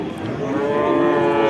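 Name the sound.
calf mooing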